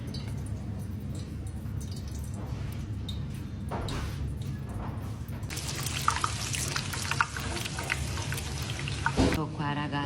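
Batter-coated stuffed zucchini flowers frying in hot oil give off a dense, crackling sizzle. It swells noticeably partway through and continues steadily over a low background hum.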